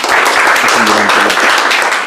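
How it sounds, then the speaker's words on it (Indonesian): Steady, dense applause fills the room as a gathering claps for an Indonesian U19 women's national football team that has reached its first AFF semifinal. The clapping is loud and continuous, with faint voices mixed in. "Tepuk tangan buat kalian."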